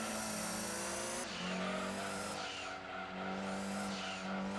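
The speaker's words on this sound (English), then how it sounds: "he slammed the brakes on" Loud roaring race car engine in the video game Gran Turismo 2, tires squealing and skidding as the car brakes hard, engine pitch dropping and surging again.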